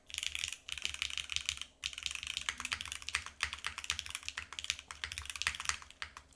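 Rapid, uneven typing on a flexy-plated Manta custom mechanical keyboard, with crisp clacky keystrokes and spacebar hits close to the mic, briefly pausing before resuming a steady flurry.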